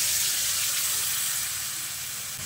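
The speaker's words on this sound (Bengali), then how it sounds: "আমি যে বাটিটায় মাংসটা ম্যারিনেট করে রেখেছিলাম সেই বাটিতে একটু জল দিয়ে সেই জলটা এর মধ্যে দিয়ে দিচ্ছি।" Water from the marinade bowl is poured into a hot pot of marinated mutton for Hyderabadi mutton dum biryani, making a continuous loud hiss and sizzle that eases slightly toward the end, close and without talking.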